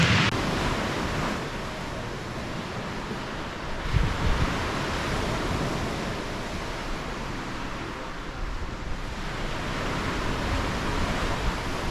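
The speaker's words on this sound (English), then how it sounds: "Beautiful waves." Ocean surf rolls in steadily at a beach, a continuous broadband wash with gentle swells and wind noise on the microphone, fairly loud and with no talking.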